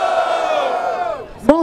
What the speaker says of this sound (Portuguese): Barulho para as rimas do CH!